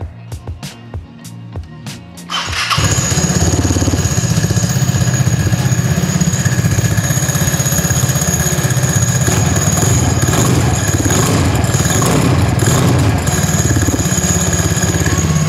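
A Vespa Sprint scooter engine fitted with a dry clutch starts after a few sharp clicks, then idles steadily with a dense, rattling dry-clutch clatter over a low throbbing hum, close and loud.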